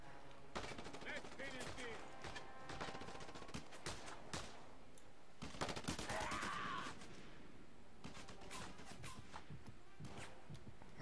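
Gunfire in the video game Just Cause 2 during a stronghold assault, with rapid bursts of shots and sharp cracks scattered across the stretch, mixed with game effects and a faint voice.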